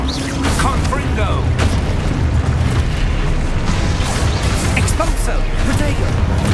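A Confringo blast spell explosion in the Hogwarts Legacy video game, loud booming bursts over dense continuous combat noise, with a voice shouting over it.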